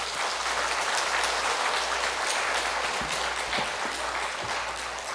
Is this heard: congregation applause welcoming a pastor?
yes